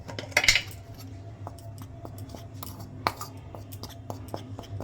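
Gram flour, salt and eggs being stirred into a batter in a bowl: a spoon clinks and scrapes against the sides in irregular taps, close by, with a brief louder clatter at the start and no talking.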